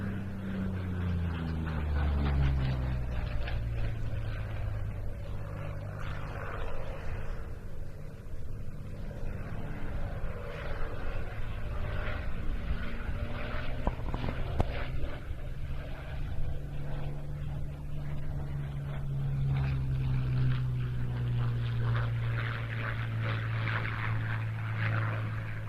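A Curtiss P-40C fighter flies at the Duxford air show, its piston engine droning at a distance with a wavering, rising and falling pitch as it passes and maneuvers, fairly faint against open-air background.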